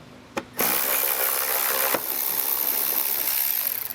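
A ratchet backs out 7mm screws on a 2023 Jeep Wrangler, a short click then a sustained rasping whir of the mechanism running close by, with a sharp tick partway through.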